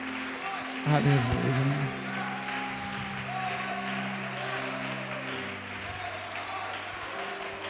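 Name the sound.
church congregation applauding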